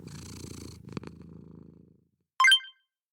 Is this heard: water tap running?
no